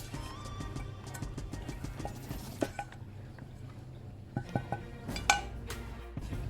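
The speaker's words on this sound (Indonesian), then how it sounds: "Kita aduk semua jadi satu." A spoon clinks and scrapes against a bowl while minced meat, milk-soaked bread, fried onion, onion and garlic are stirred together for a galantine, with soft wet patting between the sharper taps, close and alone.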